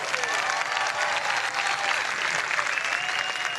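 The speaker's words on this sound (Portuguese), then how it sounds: "Palmas para Jesus Cristo!" A vast crowd applauds at an open-air mass on Copacabana beach, a steady distant wash of clapping with faint cheering and whistles.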